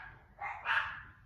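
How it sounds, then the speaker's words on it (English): Dogs bark a couple of times in a home, a short burst followed by a louder, brighter yelp, somewhat distant and fairly faint. "There goes my dogs."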